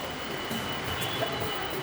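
A metro train rumbles steadily past, its broad, constant roar filling the space with no voices.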